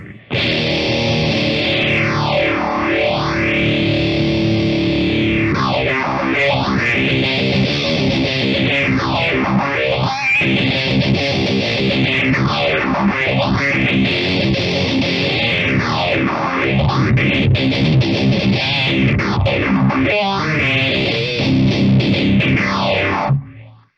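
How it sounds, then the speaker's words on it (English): Phaser effect pedal sweeping over amplifier hiss, a loud steady wash with slow, regular whooshing sweeps rising and falling about every four to five seconds throughout, with no other sound. "the hiss is running through the phaser and you can hear the phaser phasing the hiss"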